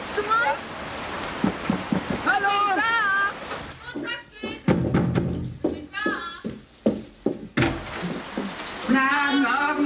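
Steady rain falls with hints of thunder, heard as a hissing backdrop beneath German conversation and some nearby knocks and clatter.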